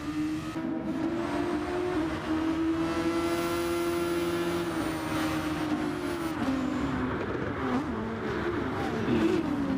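Race cars accelerating in a racing video game: a steady, loud engine whine with strong harmonics that rises and dips in pitch as cars speed up and brake, continuous for the whole stretch with no talking.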